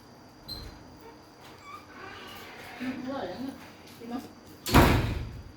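A door slams shut hard with one loud, sharp bang near the end, after a stretch of quiet room noise and soft voices talking in the background.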